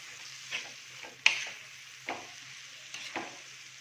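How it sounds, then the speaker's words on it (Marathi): Prawns being sautéed in a pan for a spicy tawa fry, a steady sizzle with a few scraping stirs of a spatula spaced out across the stretch, moderately quiet and without talk. "आता आपण ही आपली अर्धा किलो घेतलेली कोलबी आहे ती आपण यात घालून घेणार आहोत तर ही व्यवस्थित एक्झ्यू करायची आहे आपल्याला व्यवस्थित परतून घ्यायची आहे"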